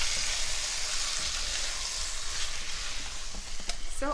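Crawfish étouffée with a few drops of Tabasco sauce sizzles steadily in a hot pan as it is stirred, with a soft, continuous frying hiss and a few faint scrapes near the end.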